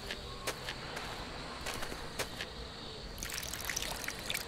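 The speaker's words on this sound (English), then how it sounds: "Alright, so this is just an empty bucket? Or is it a water bucket? So let's pour it out" Water poured out of a bucket onto earth in a video game, a faint continuous trickle and splatter with a few brief drips, heavier near the end.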